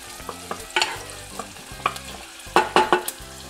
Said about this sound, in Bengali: এবার অনিয়ন হালকা নাড়াচাড়া দিয়ে